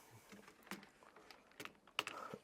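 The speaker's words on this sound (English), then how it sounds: "I am just going to get my keyboard again" Soft, irregular clicks of fingers typing on a computer keyboard, quiet and close, a sparse scattering of keystrokes with a few sharper taps and no talking.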